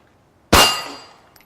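A single sharp handgun shot fired with the weaker left hand cracks out loudly, followed by a ringing decay that fades over about a second.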